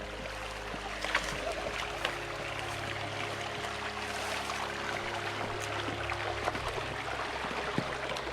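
Flowing water in a native brook trout stream in a national forest, a steady, close rushing and trickling wash that holds an even level throughout with no voices.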